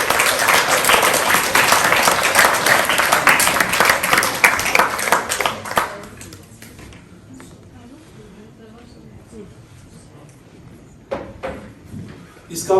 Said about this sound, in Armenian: Ծափահարություններով